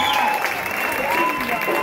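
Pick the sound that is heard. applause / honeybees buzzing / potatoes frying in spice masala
applause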